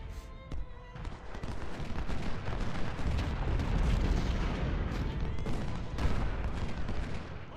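Cannon and artillery fire from the Ultimate General: Civil War strategy game, a dense, continuous barrage of booming low rumbles and overlapping blasts that stays loud throughout.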